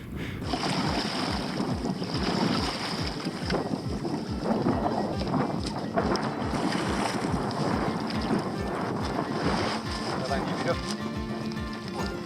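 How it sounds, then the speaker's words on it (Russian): Moderate wind of about five metres per second gusts across a raft with a sail on the Kamchatka River, buffeting the microphone with a constant rumbling roar, while people talk nearby. "Вот при таком ветре, он, правда, подутих, но он есть."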